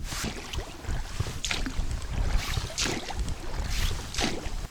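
Oars dip and pull through lake water in a slow, regular rhythm from a small boat, each stroke a soft splash and swish, with wind rumbling against the microphone.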